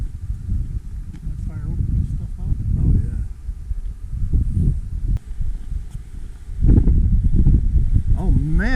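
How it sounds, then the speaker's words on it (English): Low, rumbling wind buffets the microphone continuously at Table Rock State Park, South Carolina, swelling louder near the end, with faint voices mixed underneath. "Man, is it windy."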